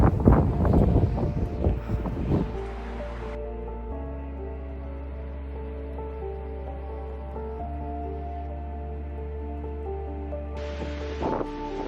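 Wind blowing outdoors at a castle, with strong gusty buffeting at first that settles into a steady low rush, over a faint tonal background hum.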